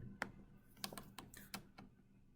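Password being typed on a computer keyboard: a handful of separate key clicks, close and fairly quiet, spaced irregularly with short pauses between strokes, no voices.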